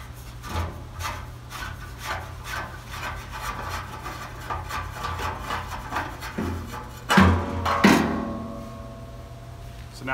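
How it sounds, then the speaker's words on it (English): A metal pipe is cut by hand for a woodgas heat exchanger on a V10 Dodge build, giving steady repeated rasping strokes, then a couple of louder scraping bursts near the end. "I need to cut my pipe"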